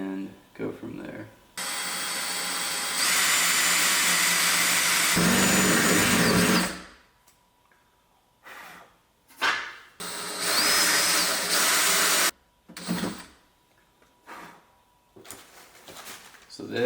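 Power tool grinding and cutting into fiberglass fender liner material on a wide-body Ford Bronco, loud sustained bursts of several seconds broken by pauses, with brief talk between cuts.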